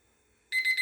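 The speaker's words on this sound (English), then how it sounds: "my timer is about to go off" A kitchen timer goes off after near silence, a loud, close electronic beeping in rapid pulsing bursts that starts abruptly and continues to the end.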